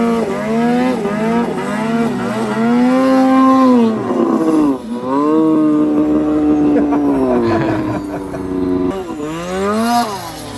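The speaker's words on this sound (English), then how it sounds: "The turbo does sound pretty sweet." A turbocharged snowmobile engine revving on a steep snowy chute climb, close and loud, its pitch rising and falling in repeated surges over about ten seconds with brief dips between pulls.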